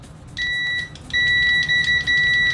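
An INGCO DM7502 budget multimeter in continuity mode gives a loud, steady electronic beep, a short tone followed by a longer sustained one with brief dropouts, heard alone without speech.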